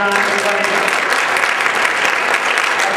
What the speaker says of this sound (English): Let's have a big hand of applause for Ron, everybody.